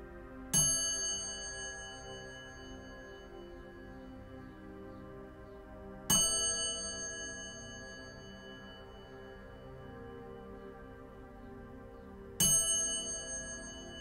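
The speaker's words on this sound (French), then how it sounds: "tandis que la cloche retentit" A meditation bell strikes three times about six seconds apart at the close of a guided meditation, each a clear metallic ring that slowly fades over a soft, sustained tonal backdrop, with no speech.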